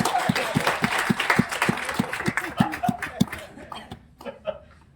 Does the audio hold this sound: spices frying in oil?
no